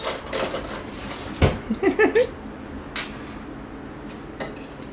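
Metal tongs clatter against a frying pan as chicken breast is handled in olive oil, a few sharp clanks and scrapes clustered near the middle over a quiet kitchen background.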